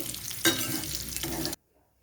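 Potato pieces sizzle steadily in hot oil as a prawn curry is being cooked, with a clatter of stirring near the start. A second stir follows, then the sizzle cuts off abruptly into near silence.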